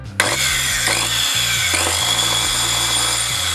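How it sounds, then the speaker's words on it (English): A handheld tile saw runs roughly with worn carbon brushes, its motor whining loudly and continuously up close with a rasping edge and audible stuttering shifts in pitch as it hesitates to run cleanly. "Does your handheld tile saw sound like this?"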